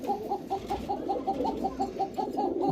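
Kokka pigeons, a Rajshahi Lal Sundori pair, coo in a steady repeating rhythm of soft, evenly spaced calls, close and clear with no talk over them.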